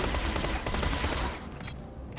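A freezing gun fires in Borderlands: The Pre-Sequel, a dense, continuous burst of rapid shots that rattles loudly for about a second and a half, then thins into a quieter crackling tail.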